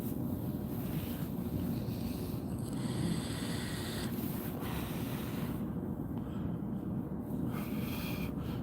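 Wind buffets a microphone outdoors on a chilly morning, a steady, loud low rumble of gusts that fills the whole stretch with no other sound standing out.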